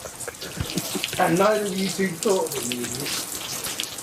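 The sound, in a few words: rain falling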